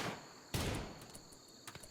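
Gunfire aimed at a Neanderthal in RimWorld, heard as two quiet, sharp shots about a second apart over a faint, steady chirping backdrop.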